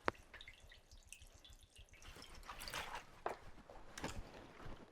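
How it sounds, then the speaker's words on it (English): Freshly dyed jeans lifted with claws from hot dye water, draining back into the bath in a quiet patter of drips, with a few splashier runs of falling water and soft squishes of wet fabric. "I'm going to use my claws to lift my fabric up, let it drain"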